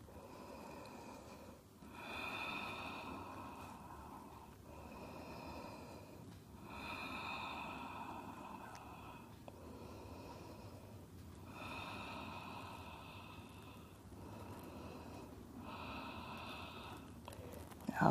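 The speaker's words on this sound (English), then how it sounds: "A few more breaths there on your own" Slow, steady breathing held through a yoga pose, long soft inhales and exhales rising and falling in an even rhythm about every five seconds, close and continuous with no talking.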